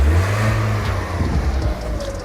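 A car engine runs after a jump start from a 70mai portable jump starter, a low steady idle rumble close by that settles slightly, with no talk.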